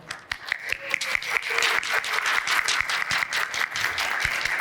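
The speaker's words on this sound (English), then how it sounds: "Let's give a big round of applause to our shining stars." Audience at a Diwali 2022 show breaks into sustained applause, many hands clapping with sharp individual claps standing out from the dense crowd sound, growing fuller and holding steady throughout.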